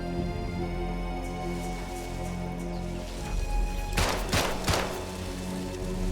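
Gunfire in a video game, a few sharp cracking shots in quick succession over steady humming game tones, close and fairly loud.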